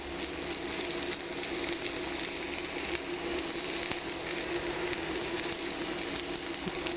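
Mushrooms sizzle on a grill next to a sirloin steak, producing a steady, dense crackling hiss that runs evenly throughout at moderate level, with no one speaking.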